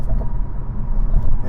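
Freeway car traffic passes as a low, continuous road rumble heard from inside a moving vehicle, with a voice talking over it.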